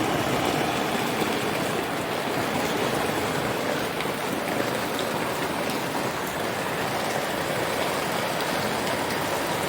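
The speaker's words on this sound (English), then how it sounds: "sorry about the rain noise" Steady, dense rain pours throughout, a constant broadband hiss of drops drumming on surfaces with no pauses or voices.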